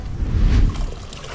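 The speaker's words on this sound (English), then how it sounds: "we're gonna pour our broth into the other broth" Korean bone soup broth pours from one pot into another, a brief splashing, gurgling rush of liquid that swells and then tapers off within about a second.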